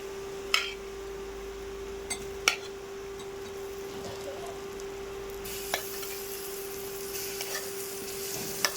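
Prawns frying in a pan and being stirred, a continuous close sizzle under a steady electrical hum, with occasional utensil clinks against the pan and the frying growing louder near the end.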